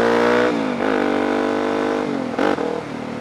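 A dual-sport motorcycle, either a DRZ400SM or WR250X, accelerates hard on a closed road, its engine note climbing steadily through the gears with brief dips at shifts, loud and close throughout.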